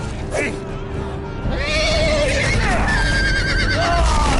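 A horse gives a loud, close whinny, its wavering pitch rising and falling over a couple of seconds amid background noise and creaking.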